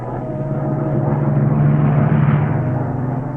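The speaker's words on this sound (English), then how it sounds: "Then this German plane comes along and spots us." A World War II German warplane drones overhead in a 1943 training film, a loud, steady engine rumble that swells slightly in the middle and holds without talk.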